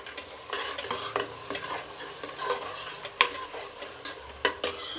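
Tomato masala with turmeric is stirred in a frying pan, a spoon scraping and clinking against the pan in irregular strokes over a soft, continuous sizzle.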